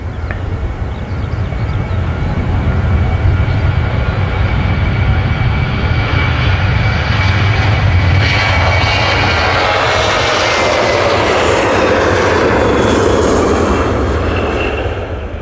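An airliner bound for Larnaca takes off from Manchester Airport with a loud, sustained engine roar, rising jet whine building in the second half, heard alone with no talk.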